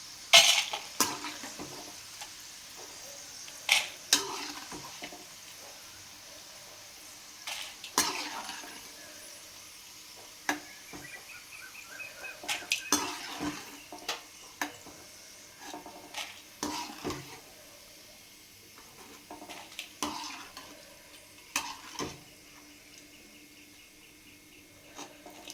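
A pan of pakodas made from dried beans is stirred while they fry, with soft sizzling under intermittent scraping and clinking of a utensil against the pan.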